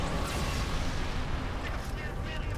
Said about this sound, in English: Was it the Mac cannon?